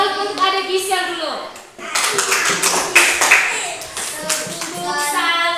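Schoolchildren in an Indonesian classroom do a rhythmic salute clap together, bright patterned hand claps mixed with children's chanting voices, close and fairly loud.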